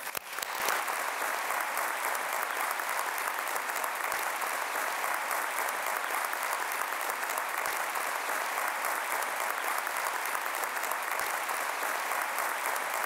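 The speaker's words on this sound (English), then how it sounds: "please join me in one final round of applause for our recipients" Sustained applause from a large audience at an awards ceremony in Constitution Hall, a dense, steady roar of many hands clapping that swells quickly and holds evenly for over twelve seconds.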